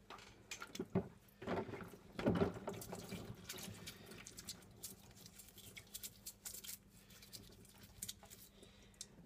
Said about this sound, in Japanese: これからプラスチック部品の洗浄作業をしていきたいと思います